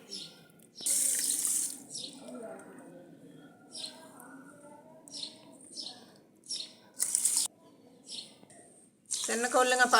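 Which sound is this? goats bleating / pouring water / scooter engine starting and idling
pouring water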